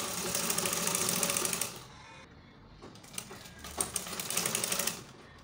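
Sewing machine stitching fabric for a baby girl's halter-neck peplum top: a loud steady whirring run stops briefly, then resumes in a quieter, uneven burst of stitching, with no talking.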